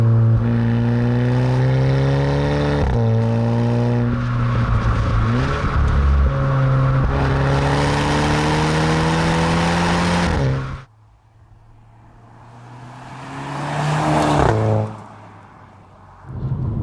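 A Volkswagen Scirocco R's turbocharged engine, about 260 horsepower, revs hard through several gears, each climbing pitch broken by a shift, then drops to a quieter lull before swelling again into a passing roar.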